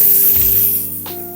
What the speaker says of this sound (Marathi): आता हे सगळं आपण या तेलामध्ये चांगलं परतून घेऊया।